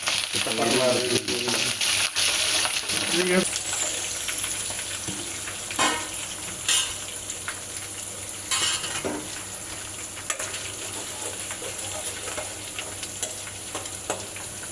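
Red and green chillies with curry leaves fry in hot oil, a steady close sizzle with bursts of crackling and a few spoon stirs and scrapes against the pan.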